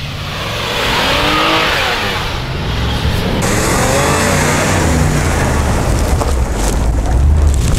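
A Lexus RX 350 and a BMW X5 4.8 SUV accelerate hard side by side in a drag race, loud engine roar building and passing close, with wind and road noise.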